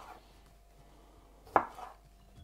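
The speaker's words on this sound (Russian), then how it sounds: "А так я помидоры нарежу просто пополам." A single sharp knife chop halving a tomato on a board, quiet surroundings before and after, with a faint clatter following.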